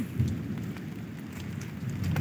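Heavy rain pours down in a steady, dense rush with a low rumbling undertone, continuous and fairly close throughout the short stretch.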